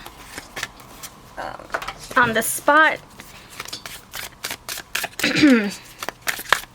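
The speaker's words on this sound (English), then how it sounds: "Live action shuffling." Tarot cards shuffled by hand during a pick-a-card reading, producing crisp riffling and clicking bursts mixed with a person talking close by.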